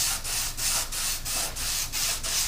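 Rhythmic hand sanding of a car dashboard, a steady back-and-forth scratchy rasp repeating about every third of a second, close up with no talking.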